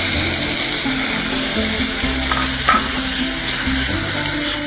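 Sliced tomatoes sizzle steadily in a hot pan, a loud, continuous frying hiss close by, with a stirring scrape partway through and no talking.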